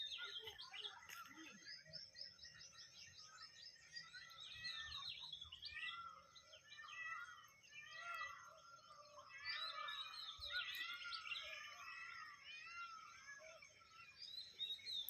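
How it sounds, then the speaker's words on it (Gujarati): Several small birds chirp and twitter continuously in the early morning in quick, overlapping trills, fairly faint and at a distance, with no talking. "અત્યારના પક્ષીઓનો અવાજ કેવો એટલું મસ્ત સંભળાઈ રહેશે"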